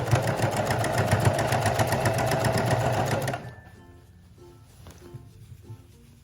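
A sewing machine stitches through thick layered fabric of a mini dress with a ruffle sandwiched between, a fast steady mechanical whir close up that stops abruptly partway, leaving a quiet room with faint clicks.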